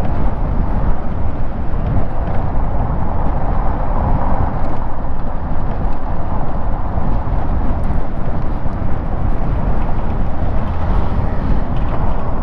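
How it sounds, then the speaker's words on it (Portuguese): Motorcycle with a blown shock absorber passing close by, a steady broadband engine and road rumble that stays loud and continuous throughout, with no voices over it. "Tá escutando um barulho aí, é essa moto aí, à minha esquerda. Tá com o amortecedor estourado."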